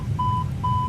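Overspeed warning in a Flight Simulator 2020 cockpit sounds as two short steady electronic beeps over a low engine drone.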